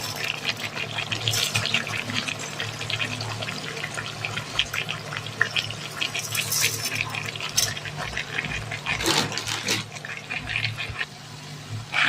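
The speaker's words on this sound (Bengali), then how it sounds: "জল দিয়ে দিয়েছি" Water poured into a pot of washed lentils for vegetarian khichuri, a steady splashing, gushing pour running throughout at moderate loudness over a low kitchen hum, with no talking.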